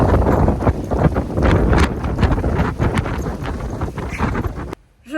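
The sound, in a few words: wind blowing outdoors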